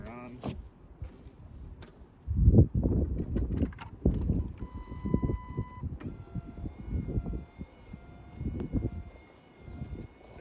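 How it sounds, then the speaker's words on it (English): A 2015-2020 Honda Fit front windshield wiper motor runs, a faint mechanical whirring and clicking of the linkage in repeated sweeps, partly under a person talking nearby. "So I'm going to turn the wiper motor on."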